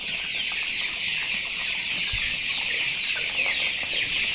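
Young poultry chicks at a nipple watering system, a steady high chorus of peeping and cheeping filling the space throughout, with no talk.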